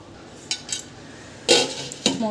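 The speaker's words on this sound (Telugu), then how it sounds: "దాని మీద ఒక మూత పెట్టుకోవాలి" A lid set onto a cooking pot holding milk that has been brought to a boil, giving sharp metallic clinks: a couple of light taps, then two louder clanks close by, no talk.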